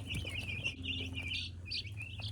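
Young meat chickens chirp busily while eating fresh feed, a dense, continuous layer of high peeping calls at close range over a low background hum.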